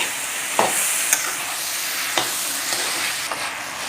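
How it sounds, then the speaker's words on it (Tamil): Young pumpkin being stirred and fried in a pan for a Tamil kuzhambu, a soft steady sizzle broken by several sharp scraping stir clicks, close and alone without voices. "இப்போ வந்து நம்ம இந்த பிஞ்சு பூசணியை சேர்த்துக்கிறோம். நல்லா மிக்ஸ் பண்ணிக்கலாம்."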